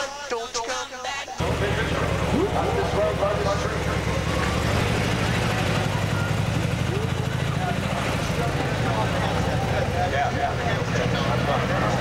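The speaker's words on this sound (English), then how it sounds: "Sounds like the engine." A boat engine runs with a steady low rumbling drone that stays loud and continuous for most of the stretch, starting after a brief moment of voices at the start.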